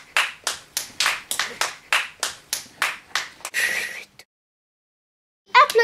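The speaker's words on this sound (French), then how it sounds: "Jacadie stop. Applaudissez." Children clap their hands in a Simon Says game, a steady run of about a dozen distinct claps close by that ends in a short flurry, followed by silence and a brief burst at the end.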